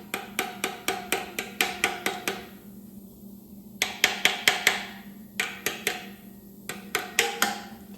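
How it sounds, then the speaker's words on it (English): Small hammer tapping on the compressed valve springs of an LS1 engine during a cam swap in a 1967 Camaro, in bursts of sharp metallic clicks separated by brief pauses, close and clear. "You take a little hammer."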